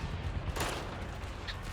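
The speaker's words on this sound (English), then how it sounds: "The sound of heavy gunfire comes over the transmission once again, and this time it's getting closer to the dolls." Heavy gunfire comes over a radio transmission during a Girls Frontline 2 story scene: a faint, muffled burst of shots buried in a dense, hissy background, distant and low in level.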